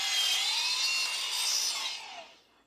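Saw cutting a wooden board to length during a room build, a short bright rasping cut lasting about two seconds before fading out.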